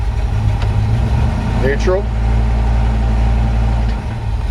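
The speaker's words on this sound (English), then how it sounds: "You can hear that engine." A low, rumbling engine of a 1951 Ford F1 truck idles steadily throughout, with a brief voice and a short squeak or chirp partway through.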